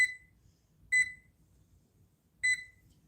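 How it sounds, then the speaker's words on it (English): A kitchen timer gives three short electronic beeps, one about a second after the first and another a second and a half later, clear and near against a quiet room. "Yes, I should put the timer on."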